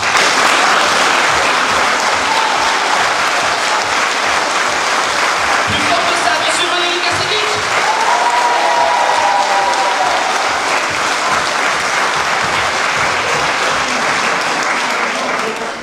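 An audience at a musical comedy show in Escaudain claps loudly and continuously in sustained applause that fades slightly at the end, with a voice speaking over it partway through.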